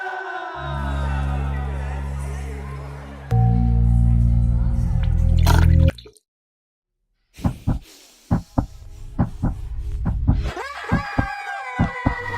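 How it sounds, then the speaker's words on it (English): An added heartbeat sound effect thumps in a loud, heavy, regular low pulse, then cuts out before a stretch of scattered sharp clicks and taps with faint voices in a noisy classroom setting. "I was able to add in the tweaks using the sound effects, such as the addition of the heartbeat"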